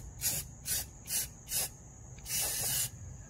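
Short bursts from an aerosol can spraying rust primer onto a boat trailer, four quick hissing puffs followed by one longer spray, close and crisp.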